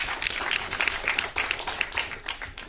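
Audience at a Hindi film trailer launch in a mall applauding, dense close clapping that rises and falls over a few seconds, no speech.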